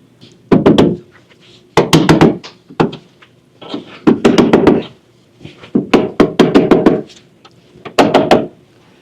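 Sharp taps and knocks fitting a headlight into place during an International Scout restoration come in irregular clusters of quick strikes, loud and close with brief pauses between bursts.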